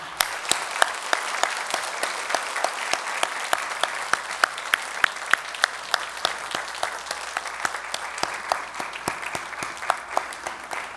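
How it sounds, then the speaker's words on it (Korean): A church congregation applauds during a Sunday worship service, dense sustained clapping from many hands, loud and continuous for about eleven seconds. "우리 박수로 환영하겠습니다"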